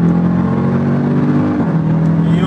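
A 717-horsepower SUV launches hard from a standstill without launch control, its engine roaring loud and close in a steady, rising pull with no voices over it.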